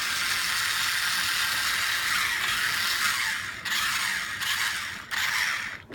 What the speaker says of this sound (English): it's a two-wheel drive robot. Its back wheels are the drive wheels.